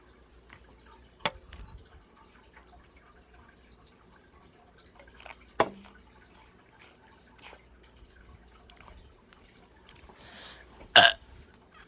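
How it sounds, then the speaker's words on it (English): Three separate burps come about four seconds apart, each sharp and short, with the last the loudest, set against a faint, quiet indoor background. "10 burps for you"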